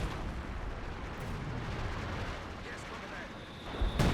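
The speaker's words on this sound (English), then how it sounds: "We do have a howitzer. Right now, opening fire has 7 kills so far" Heavy howitzer artillery fire in Company of Heroes 2 booms over a continuous rumbling battlefield din, with a loud close blast near the end and someone talking over the action.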